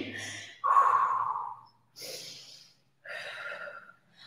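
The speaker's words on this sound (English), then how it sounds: "you're going to hear my breathing shake" Shaky, uneven breathing from a woman holding a low barre leg workout position with a weighted leg out to the side, coming in three close, breathy bursts separated by short pauses.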